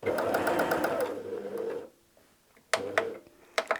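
A sewing machine fitted with a darning foot stitches in place three times while quilting: a fast, steady whirring run of about two seconds, then near silence broken by a few sharp mechanical clicks.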